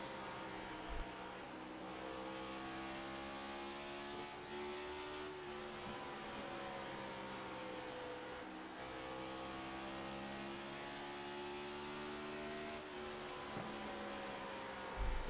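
Next Gen Cup Series race cars at full throttle around Bristol short track, a steady layered engine drone of several cars revving hard with shifting pitch, heard at some distance and fairly faint.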